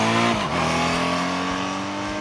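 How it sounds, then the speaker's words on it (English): A 2014 Honda CTX1300 motorcycle engine hums steadily close by, its pitch dipping briefly then holding an even, smooth drone. "I really like the sound of this engine."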